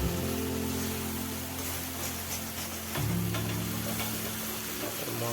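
Ground coriander and cumin being stirred and fried in a pan for an egg curry, a steady close sizzle with faint scraping of the spoon throughout.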